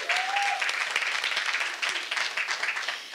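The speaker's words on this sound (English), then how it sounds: "give her a round of applause for doing this as well" Steady applause from an audience at an award ceremony in Dallas, a dense wash of clapping that holds for the whole stretch with no voices over it.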